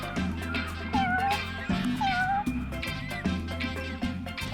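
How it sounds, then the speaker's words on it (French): A cat meows repeatedly over a steady musical backing, several drawn-out meows spaced a second or so apart. "Bien sûr, je savais que c'était un chat."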